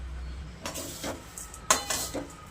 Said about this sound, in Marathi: आता हे सगळे पोहे भाजून घेऊयात आपण